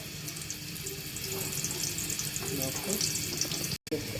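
Chopped onion and ginger frying in hot oil for a soup, a steady hissing sizzle with a few faint stirring clicks, cut by a brief dropout near the end.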